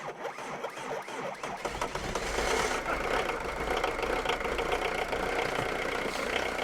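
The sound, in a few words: old 1995 diesel engine starting and idling after 8 years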